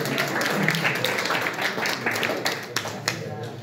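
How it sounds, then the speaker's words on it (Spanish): Applause for Tony from a church audience, a short burst of clapping mixed with a voice speaking over it, tapering off with a few scattered claps. "Gracias, un aplauso."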